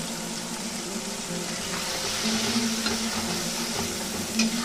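Ground onion paste sizzles and crackles steadily in hot oil in a pan while cooking a Rajasthani-style taro root dish, a continuous close frying hiss with no talk.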